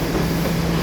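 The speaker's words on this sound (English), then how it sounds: "train coming now" A train passes in the city with a steady, dense rumble and hiss of wheels on rails, loud and continuous with no talk over it.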